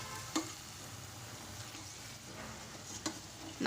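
Okra pakoda fry in hot oil with a steady, close sizzle as the pieces are turned over, broken by a couple of light clinks from the utensil, with no speech.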